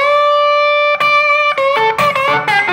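Open E slide guitar lick, played alone with distortion: a held note, then quick slid phrases and sustained bends over about three seconds.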